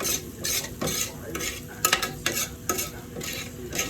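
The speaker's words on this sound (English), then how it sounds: "I'm gonna make sure I'm mixing my rice properly" Rice is stirred in a pot while water boils nearby, a spoon scraping and swishing in repeated rhythmic strokes with light clinks against the pot, close and fairly loud.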